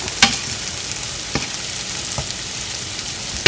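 Onions fry in a pan with a steady soft sizzle, broken by a few sharp utensil clicks and taps against the pan.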